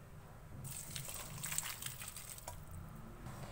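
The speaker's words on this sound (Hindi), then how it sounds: "अब यहाँ मैंने एक बाउल पे स्ट्रेनर रख दिया है," Boiled noodles poured into a strainer set over a bowl, a steady rushing of draining water for about three seconds with splashy bursts, fairly close and alone.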